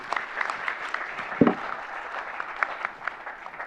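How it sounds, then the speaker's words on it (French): Audience applause for Mamadou at a startup conference session on African digital innovation: a steady wash of clapping throughout, with one sharper, louder clap spike near the middle. "on peut applaudir Mamadou"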